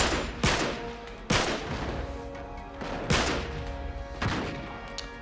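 Gunfire in the video game Uncharted 3: four sharp, loud shots spaced a second or more apart, each with a ringing tail over steady background game noise.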